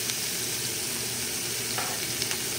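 Steady broadband sizzle of onions frying in a pan, constant and close, with faint stirring scrapes and no voices.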